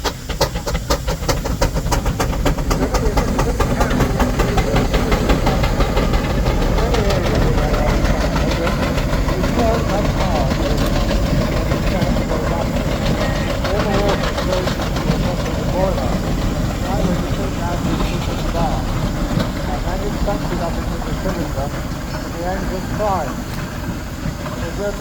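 Preserved steam engine running at a steam rally, a continuous loud chugging and rumbling with a dense mechanical clatter throughout, with talk mixed in.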